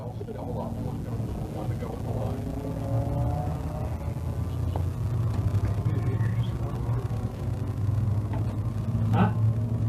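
Thunder Car Division stock cars circling the track during a 20-lap feature race, a steady low engine rumble and roar throughout with a crowd and announcer voice in the background.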